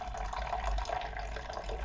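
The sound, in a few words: pouring liquid into a record cleaning machine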